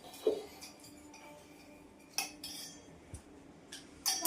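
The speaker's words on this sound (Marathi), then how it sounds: "ह्या चम्मचने त्याला छान परत घ्या. मिक्स कर. आता मी छान छान मिक्स करते." A spoon mixes ingredients in a dish, giving sparse, light metallic clinks and scrapes against a quiet background, with a few sharper taps near the end.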